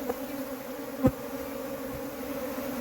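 Honeybees fanning and buzzing at their hive after a cut-out from an old tree stump, a steady close drone with one brief louder pass of a bee near the microphone.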